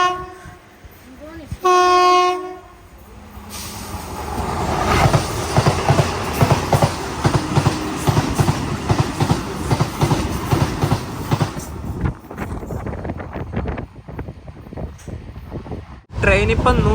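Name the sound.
express train running at speed, sleeper class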